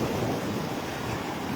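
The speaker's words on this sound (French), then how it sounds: "il y a quand même plus de vagues ici" Sea surf rolling onto the beach at Benalmadena, Spain, a steady broadband wash of breaking waves heard briefly and close.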